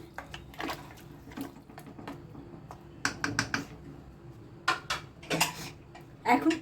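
A spoon stirs chicken and vegetable curry in a thin broth inside a cooker pot, making irregular clinks and scrapes against the metal that come in clustered bursts over a quiet kitchen background.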